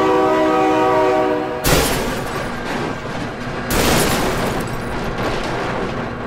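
In BeamNG Drive, a train's loud, droning horn blares for over a second, then gives way to a heavy rumbling rush of the passing train with a second surge of noise midway.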